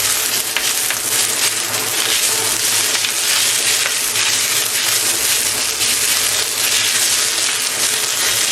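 Chives fry in a new iron wok being seasoned, a loud, dense, continuous sizzle close up with scraping stir sounds running under it throughout.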